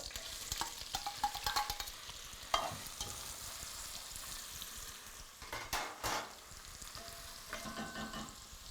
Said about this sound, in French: Et là, on va faire revenir donc, nos oignons.